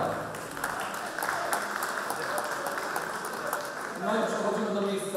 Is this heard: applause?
yes